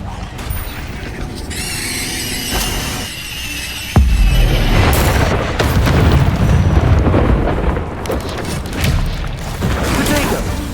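Incendio fire spell bursts in the Hogwarts Legacy video game, a sudden loud boom followed by roaring, crackling blasts and metallic squeals, with a voice speaking over the early part.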